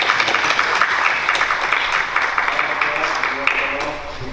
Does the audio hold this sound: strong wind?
no